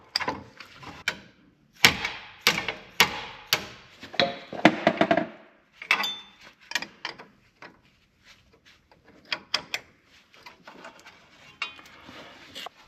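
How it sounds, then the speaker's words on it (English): A 15mm wrench breaking loose a brake line fitting on a frozen brake caliper, heard as sharp metallic clicks, ratcheting and clanks in bursts, close and fairly loud, then sparser taps and scrapes. "we can take a 15mm wrench and break loose this line"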